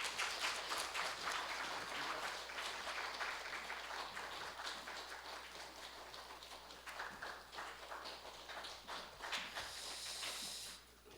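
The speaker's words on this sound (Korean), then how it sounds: "우리 축복하는 마음으로 박수 쳐주시면 감사하겠습니다" A congregation applauds inside a Jeonju church during a Sunday service welcoming new members, the clapping steady and fairly distant with some room shuffling, fading out near the end.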